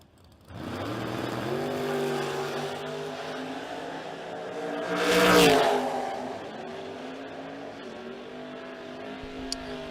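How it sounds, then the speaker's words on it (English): A Mustang and a Roadster drag racing launch off the line, engines revving and rising in pitch as the cars roar past close by, then trail away down the track. "As your next pair coming up left side of the racetrack, that is Joe Terry in the Mustang out of Bumpus, Virginia."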